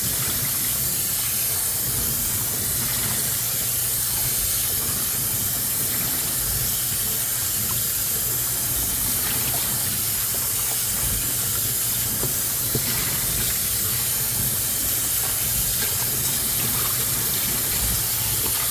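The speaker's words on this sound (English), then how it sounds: "We're washing these again before we marinate them." Steady running tap water pours over meat being rinsed in a kitchen sink before marinating for teriyaki steak, a continuous hissing splash that holds evenly throughout without talk.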